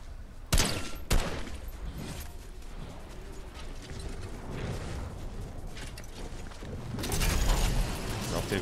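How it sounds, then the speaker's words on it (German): Gunfire in the video game Fortnite: two sharp, cracking shots close together near the start, then a steady rumble of game ambience and a louder, noisier stretch toward the end. "Rechts wurde auch noch auf ihn geschossen."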